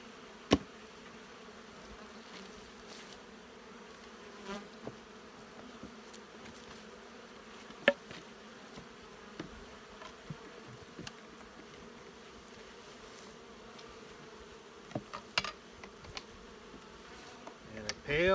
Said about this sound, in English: Just want to drive them down because I don't want to squish the bees.